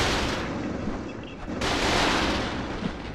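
A cannon turret fires in a Viking zombie video game, giving dense, loud artillery-like blasts and roaring noise that surge again midway through, close up with no talk.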